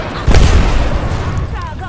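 A frag grenade detonates in a first-person shooter match, a single loud boom with a rumbling tail, followed by chaotic game noise while players talk over it.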